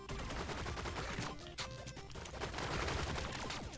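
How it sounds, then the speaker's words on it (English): Automatic rifle fire rattles in rapid bursts during a top-down shooter match in Relic Hunters Legend, dense and loud with overlapping shots and impacts. "I'm carrying an automatic rifle"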